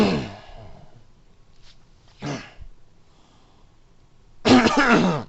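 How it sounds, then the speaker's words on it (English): Several separate coughs, close and fairly loud, spaced apart with quiet pauses between them; the last is a longer, harsher bout. "You have to excuse me for all the coughs."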